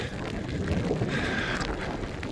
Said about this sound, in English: It's slightly windy for Iceland.